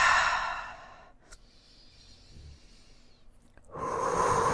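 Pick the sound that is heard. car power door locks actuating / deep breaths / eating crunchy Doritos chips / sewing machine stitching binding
deep breaths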